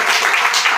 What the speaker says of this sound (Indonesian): Tepuk tangan dulu yang meriah buat Tuhan